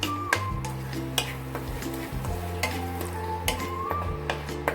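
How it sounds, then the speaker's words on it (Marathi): Masala spice mix stir-fried in a pan for a chickpea curry, with a steady sizzle under repeated scraping strokes of a spoon against the pan. The strokes are close and regular, and no one talks. "आता मसाला आपण चांगला परतून घेऊया।"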